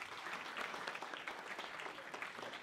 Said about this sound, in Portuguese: Uma salva de palmas para a Kelly, minha empresária toda poderosa